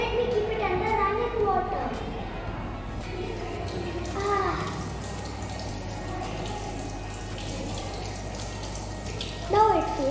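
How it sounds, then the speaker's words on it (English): Tap water runs steadily from a faucet over a burned finger at a sink, a continuous close splash with children's voices talking over it. "After you put your hand under running water"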